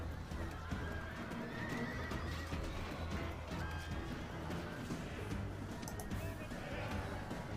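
In a Rome: Total War battle, horses neigh and whinny among clip-clopping hooves and general clatter. Cavalry noise stays continuous and busy throughout, with voices talking underneath.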